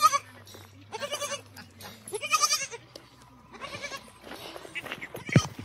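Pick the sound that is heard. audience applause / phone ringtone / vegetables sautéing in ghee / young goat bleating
young goat bleating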